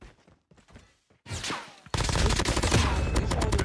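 Call of Duty gameplay starts with quiet, scattered game sounds, then a rapid automatic burst of gunfire. A dense, loud volley of shots follows and continues to the end.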